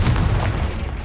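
A Confringo explosive spell goes off in Hogwarts Legacy as a single loud, close boom with a heavy low-end thump that quickly decays into a short rumbling tail.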